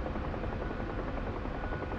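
A military helicopter in a combat video game flies low, its rotor thudding and engine droning steadily and loudly throughout, alone without voices.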